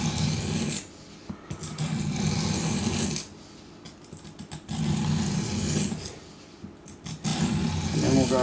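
A knife is drawn across the stone of an Apex Edge Pro sharpener in rapid, rasping strokes, grouped into four runs of a second or so each with short pauses between them, close and clear.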